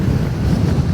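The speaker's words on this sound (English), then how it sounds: "it's a windy edge to the fells as well" Wind buffets the microphone on an exposed edge of the fells, a loud, steady rush with no voices.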